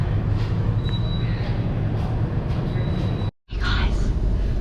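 Interior of a moving train on a beach day trip, a steady rumbling roar of wheels and carriage with faint squeals, briefly cut by a short gap, while people talk quietly nearby.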